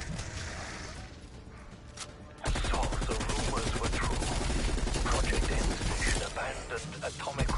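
Sustained automatic gunfire in Call of Duty: Cold War Zombies, starting abruptly after a quieter stretch and continuing as a dense, steady stream of shots over game noise, with players talking over it.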